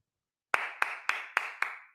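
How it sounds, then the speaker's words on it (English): Five sharp, evenly spaced claps ring out loud and clear against silence, each with a short ringing decay, like a clapping sound effect used as a round of applause. "Round of applause"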